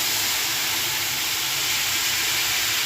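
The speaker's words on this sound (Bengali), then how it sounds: "এখন এই যে ফুলকপিগুলো ভাজি নেব" Cauliflower fries in hot oil with a dense, steady hiss of sizzling that holds constant and loud from start to finish.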